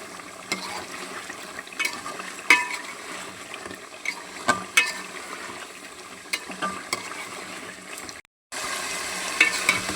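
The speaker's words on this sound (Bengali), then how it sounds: "এই যে মাংস আমার ভালো করে কষানো হয়ে গেছে" Chicken pieces for biryani sizzle and fry in a pan with green chillies, stirred now and then with sharp scraping clinks of a spoon against the metal, steady frying hiss throughout, loud and close.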